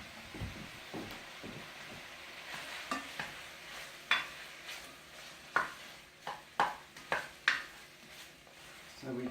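Vegetables seasoned with paprika and cumin stirred in a pan, a spoon scraping and knocking in irregular clicks over a soft sizzle, several sharper taps standing out in the middle.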